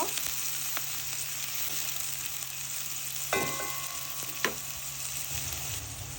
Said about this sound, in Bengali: একটু নেড়ে পেঁয়াজ তেলের সাথে মিশিয়ে নিব